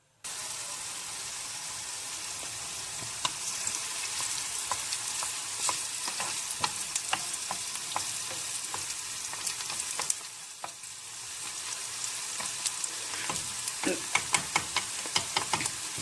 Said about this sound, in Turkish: Gördüğünüz gibi pürüzsüz soğanlarımızı arada karıştıralım.